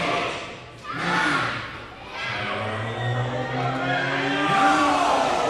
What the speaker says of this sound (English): The Bambinos are teaching the crowd math by having them count to 10.